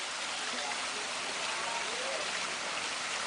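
Water pours steadily from a waterfall in the Philippines used as a source of electricity, a dense, even rushing hiss with no breaks, close and moderately loud.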